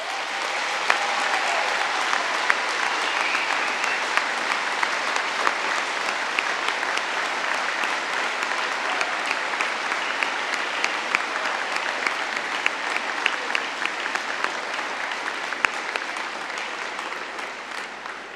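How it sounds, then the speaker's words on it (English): A large audience at a university degree ceremony in London applauds graduates' friends and family, a dense, steady wash of clapping that carries on for the whole stretch at an even, full level. "let's give them a big round of applause."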